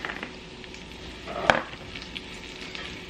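Onions toss into a hot pan with garlic and fry with a steady soft sizzle, broken midway by one sharp clack of utensil against pan.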